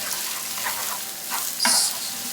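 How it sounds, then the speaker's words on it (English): Onion and garlic frying in a pan with bacon, a steady sizzle under intermittent scraping strokes of a spoon as the mixture is stirred, with a brighter hiss near the end. "And just stir this around."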